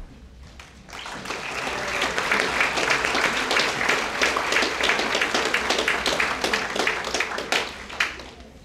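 An audience at a high school awards ceremony breaks into loud, sustained applause, a dense wash of clapping that rises quickly, holds for several seconds and then tapers off.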